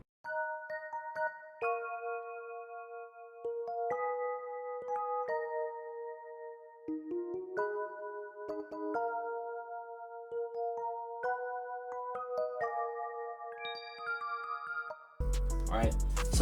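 Suitcase electric piano from Expand plays a soul melody, soft bell-like chords and single notes in a relaxed pattern, close and clean, ending with a sudden burst of noise.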